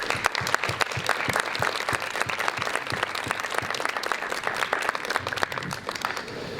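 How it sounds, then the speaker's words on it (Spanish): Audience applause at a panel discussion on press freedom, a steady dense clapping from a large crowd that holds at an even loudness throughout, with no speech over it. "a quienes agradecemos con este caluroso aplauso."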